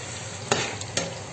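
A spoon stirs sizzling onion, sweet garlic and water in a pot for Sicilian caponata, with a steady frying hiss broken by a couple of sharp scrapes against the pot.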